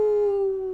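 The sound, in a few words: dog barking in a video game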